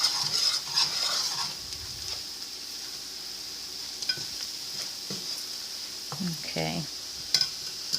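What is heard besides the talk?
whisking flour into butter and bacon in a pan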